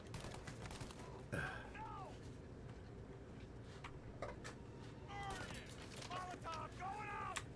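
Bursts of Tommy gun fire crackle from a video game set in the Mafia era, sounding thin and weak, with voices talking over the shooting and mechanical clatter between the volleys.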